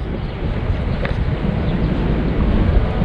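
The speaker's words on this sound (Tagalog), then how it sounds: "Wow, mahangin, presko" Strong wind buffeting the microphone in a steady roaring rush, loud and unbroken throughout, outdoors in Intramuros, Manila.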